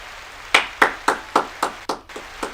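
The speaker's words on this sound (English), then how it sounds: "I'm going to ask my audience here, the few that are here, to give you a round of applause" A small studio audience gives a sparse round of applause, about eight slow, distinct claps spaced evenly and close to the microphone.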